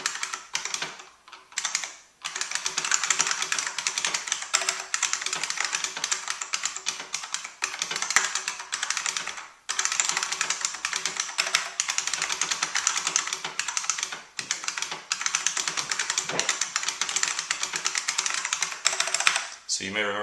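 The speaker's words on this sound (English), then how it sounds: "I'll just do a little typing on it real quick so you can hear what it sounds like" Rapid, loud clacking from a Unicomp SpaceSaver M buckling spring keyboard being typed on up close, as continuous bursts broken by a few brief pauses.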